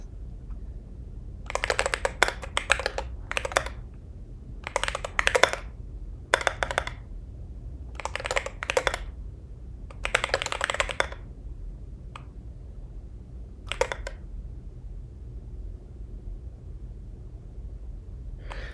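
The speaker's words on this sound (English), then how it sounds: "you have the clackiest keyboard" Clacky mechanical computer keyboard typed in short irregular bursts, crisp close keystrokes separated by pauses over a low steady room hum.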